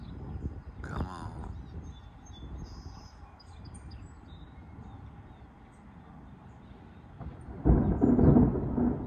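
Thunder rolling through stormy, rainy weather, a distant low rumble under faint rain and occasional bird chirps, ending in a louder, closer boom.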